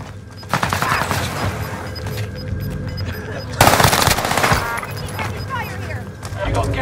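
Rapid automatic fire from a DP machine gun in a video game, with bursts rattling loudly and close, one especially intense burst in the middle, while a player talks over the shooting.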